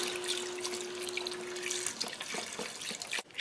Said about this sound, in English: Take your chicken stock and pour about half of it in here.